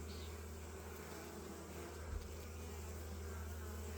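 Honey bees at a hive give a soft, continuous buzzing drone, faint and steady throughout with no voices.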